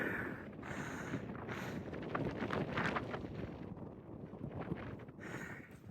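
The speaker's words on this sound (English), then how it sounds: "Very windy." Strong gusts of wind buffeting the microphone on a mountain top in the Shenandoah Mountains, a low roaring rumble that swells and eases, with no talking.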